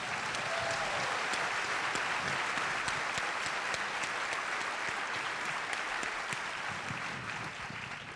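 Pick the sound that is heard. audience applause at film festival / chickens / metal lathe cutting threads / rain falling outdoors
audience applause at film festival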